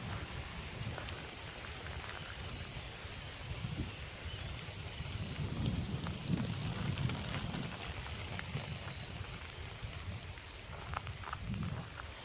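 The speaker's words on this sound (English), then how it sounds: "Did you hear the wind and the rain and the water falling in the trees?" Steady rain falls through trees with wind rushing behind it, a dense even patter of drops on leaves on a quiet morning walk, with no voices.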